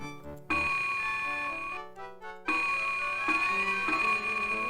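In a Windows 95 video game, a bicycle bell rings a bright, sustained electronic ding, repeated in clear loud tones with a short gap between them.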